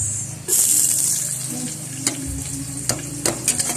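Garlic and onion frying in a pan, a loud hissing sizzle that bursts in early and settles into a steady crackle with a few sharp clinks, heard close.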